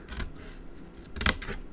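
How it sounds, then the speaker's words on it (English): Small craft scissors snip paper a few times, with a short crisp cut near the start and a louder pair of snips toward the end, close and alone in a quiet room. "Grab my little scissors."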